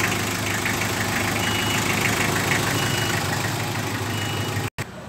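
Mitsubishi L300 engine idling during a transmission oil change, a steady close mechanical rumble with a faint knocking tick running evenly throughout, cut by a brief dropout near the end, no talk.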